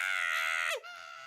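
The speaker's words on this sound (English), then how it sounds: "It's the goat noise from Cult of the Lamb when the goat screams, Joey." Goat scream from the Cult of the Lamb video game, one loud sustained bleating cry lasting under a second that bends downward at the end and cuts off.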